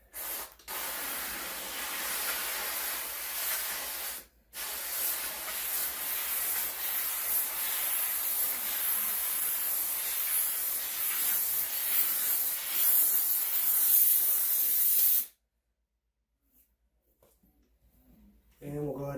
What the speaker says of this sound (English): I'm going to go ahead and give that another shot of steam